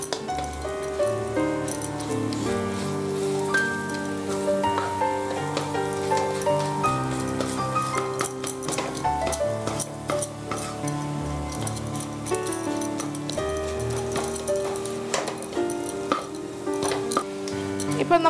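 Scrambled sweet is stirred and sautéed in a pan until it turns light brown, giving a steady soft sizzle broken by frequent clinks and scrapes of a spoon, close and continuous under what sounds like background music.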